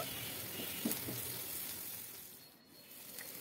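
Onions frying in oil over medium heat give a steady, soft sizzle with a faint stirring scrape near the start, fading slightly toward the end.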